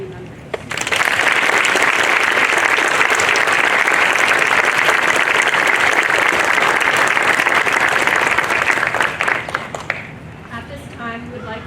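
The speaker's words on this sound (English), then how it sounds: "applauding all of our current and new Honor Society members." An audience at a National Honor Society induction ceremony bursts into loud, sustained applause for current and new members, a dense even roar of clapping lasting about nine seconds before tapering to a few scattered claps.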